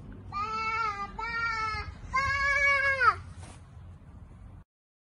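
Sheep bleating during a Christmas pageant: three drawn-out, wavering bleats in quick succession, close and fairly loud, the last one longest, over a low background hum.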